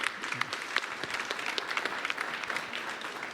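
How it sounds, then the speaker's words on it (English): Audience at a partnership announcement gives a steady round of clapping, fairly distant and soft, with no talk over it. "let's have a round of applause for that"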